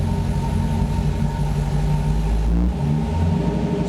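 LTx-swapped Pontiac Trans Am with a 6L80E automatic transmission revving, a loud, deep, steady V8 drone that dips briefly and then climbs back up, close and continuous with no voices.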